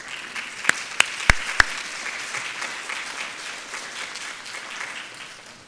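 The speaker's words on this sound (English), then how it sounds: "Let's give them a round of applause." At a policy forum, an audience gives a round of applause for standing education fellows. A few loud nearby claps open a dense, sustained wash of crowd clapping that gradually tapers off.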